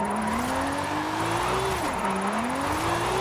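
A Lamborghini engine revs hard while drifting in Forza Horizon 5, its pitch climbing steadily, dipping briefly at a shift, then rising again, loud and close with tyre noise beneath.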